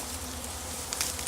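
Honey bees buzzing close around an open hive during an outdoor beekeeping demonstration, a steady low drone holding for the whole moment with a few brief louder passes near the end.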